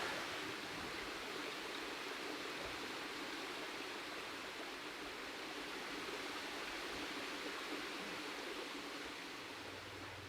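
A brook beside a coastal path on the Glamorgan coast near Southerndown's Dunraven Bay runs with a steady, soft rushing hiss, continuous and fairly faint throughout.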